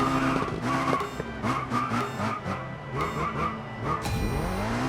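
A Ferrari in the Racing Master video game revs hard with sweeping gear-change pitch sweeps and a sharp tire skid squeal near the end, loud and close with no talking.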